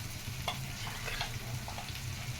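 Mutton pieces frying in a pan for mutton pulusu with spice powders, giving a steady low sizzle with light crackles throughout, fairly quiet and continuous with no voices.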